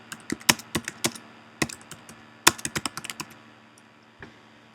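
Typing on a computer keyboard, quiet, close, irregular key clicks in short clusters with brief pauses, ending with one isolated tap.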